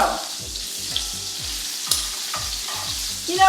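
Shrimp sizzling and spitting in a hot pan, with steady frying crackle and occasional sharper pops, heard close up.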